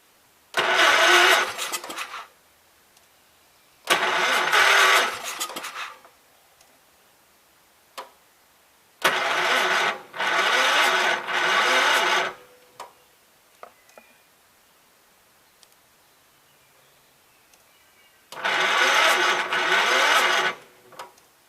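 Gravely 5665 tractor engine from 1984 cranking on a weak battery, heard as four sluggish, loud bursts of slow rhythmic turning, each one to three seconds long, separated by quiet pauses, with no catch or start.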